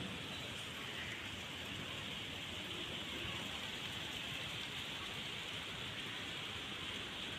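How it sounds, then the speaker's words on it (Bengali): Rain pours outside an open window, a steady dense hiss of drops on surfaces at a constant level throughout, with no voices. "এই দেখো বৃষ্টি হচ্ছে।"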